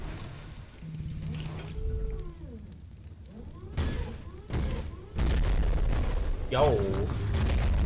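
Grenade explosion in a video game, several heavy booms and bursts over a few seconds, loud and close, with people talking over the action.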